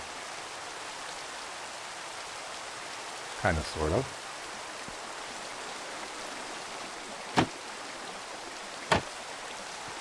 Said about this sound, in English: And it's gonna rain. Rain, rain, go away.